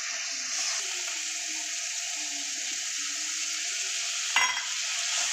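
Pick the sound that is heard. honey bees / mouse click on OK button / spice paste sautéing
spice paste sautéing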